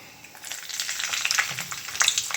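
Mustard seeds and garlic crackle and sizzle in hot oil while tempering for a matki rassa bhaji, a dense spitting hiss with scattered sharp pops, steady and close, with no voices.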